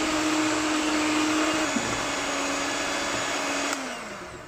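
An electric mixer beats powdered sugar into frosting for a unicorn birthday cake, a loud steady whirring drone that holds for several seconds, then its pitch drops and it fades as the mixer slows, with no talking.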